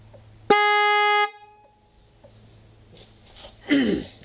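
A PIAA Slender car horn gives one loud, steady blast of under a second, then falls to quiet room noise, with a brief faint voice near the end.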